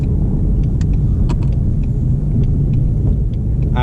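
A 2020 Shelby GT350 sweeps fast through a corner with a heavy, steady engine rumble and road drone from inside the cabin, accompanied by faint small rattles and clicks.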